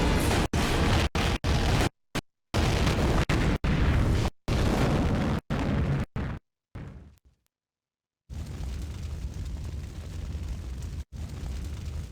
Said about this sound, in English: The entire place is about to explode.